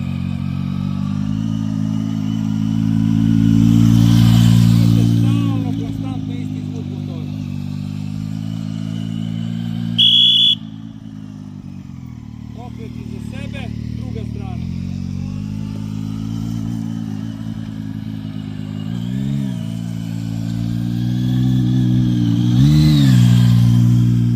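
A motorcycle cornering on a safe-riding training course, its engine droning steadily at mid pitch, rising and falling as it leans through the bend and accelerates out, fairly close, with a brief clatter near the middle.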